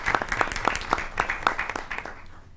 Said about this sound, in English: give them a round of applause as well for coming out